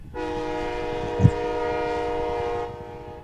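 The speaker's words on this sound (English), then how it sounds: "we can hear trains pretty regularly here, especially at this time of night" Amtrak train on a coastal line at night sounds a sustained, steady horn chord for about two and a half seconds, heard at moderate distance over a low rumble.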